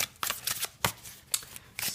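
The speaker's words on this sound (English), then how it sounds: "let's give the cards a good shuffle" Tarot cards are shuffled by hand close up, with several brisk, crisp riffling bursts in quick succession and no talking.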